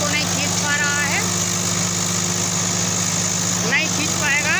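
A Swaraj 744 XT and a Sonalika DI 35 tractor strain against each other in a tug-of-war contest, their diesel engines droning steadily under load while someone commentates over them and other voices call out in the background.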